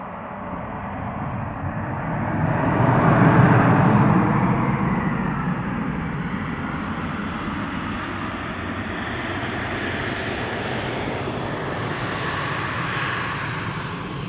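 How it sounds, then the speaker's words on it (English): A GetJet Airlines A320 arriving from Belgrade lands at a wintry Amsterdam Schiphol, its engines a loud broad roar that swells and then holds as a steady rumble, with no voices. "This is an A320, 19? A320 GetJet Airlines arriving from Belgrade."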